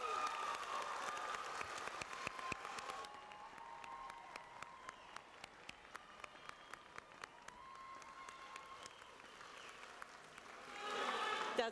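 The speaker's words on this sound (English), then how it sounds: "I want you to give a round of applause to yourselves, your family, your friends, and others here today giving support" Graduation audience at a community college health programs commencement applauding, a broad wash of clapping that thins in the middle with scattered sharp claps, then swells again at the end.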